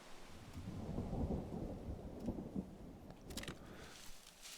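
A thunderstorm in a video game gives a low, rolling rumble of thunder over a soft hiss of rain, fairly faint and continuous, with no talking.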